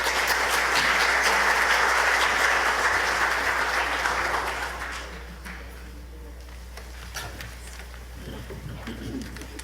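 A community choir concert audience applauds warmly for about five seconds, then the clapping thins out and fades into quieter room noise with scattered sounds.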